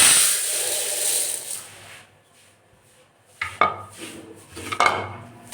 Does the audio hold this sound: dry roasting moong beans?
yes